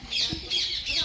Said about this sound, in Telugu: పూరే ప్యారెట్ అది